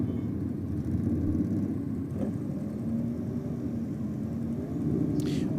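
Two-stroke drag motorcycle running down the track at Sydney Dragway on bike night, a steady distant engine drone under broad crowd and track rumble, with no clear voices.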